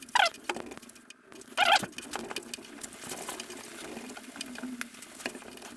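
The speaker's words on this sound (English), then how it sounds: "Now we're gonna put the towel, start" A towel rubbed lightly over the freshly washed paint of a Yamaha Royal Star motorcycle gives two short squeaky swipes near the start, then a soft, steady rubbing hiss.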